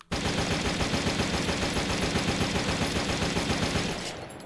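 Rapid, sustained automatic fire from a very short squad automatic weapon in the H3VR virtual-reality shooter: one loud, continuous burst lasting about four seconds before cutting off.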